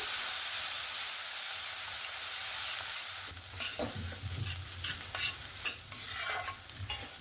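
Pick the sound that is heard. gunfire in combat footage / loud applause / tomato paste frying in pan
tomato paste frying in pan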